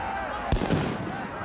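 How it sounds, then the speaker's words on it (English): Bombs thrown by rioters go off in the video game Riot: Civil Unrest, one sharp blast followed by a smaller crackle, set against a dense, continuous crowd-and-game din. "Throwing bombs at us and shit."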